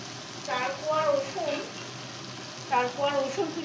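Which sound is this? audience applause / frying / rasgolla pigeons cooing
frying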